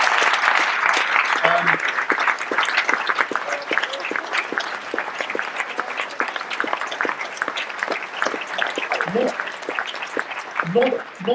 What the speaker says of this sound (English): big round of applause for these gentlemen